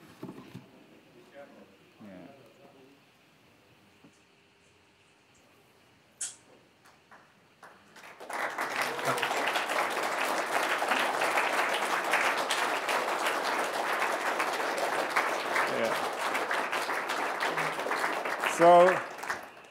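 Audience applause at a UN climate change conference in Cancún, a dense sustained burst of clapping that erupts after quiet background chatter and carries on steadily, fairly loud, for over ten seconds.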